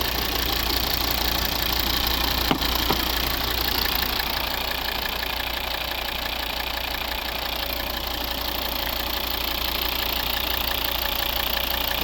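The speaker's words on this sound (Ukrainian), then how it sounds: "Ось робота двигуна. Ідеально працює двигун." A 2012 Volvo XC70 2.4 D5 diesel engine idles steadily with an even, rattling diesel clatter, close and constant, with a brief click near the start.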